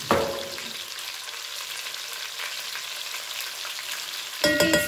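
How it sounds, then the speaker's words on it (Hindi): Chopped garlic and ginger fry in a pan for a dhaba-style spinach chicken curry, giving a steady, bright sizzle throughout, with louder bursts of stirring and spattering at the very start and end. No voices. "इसको अच्छा सा हम भून लेंगे।"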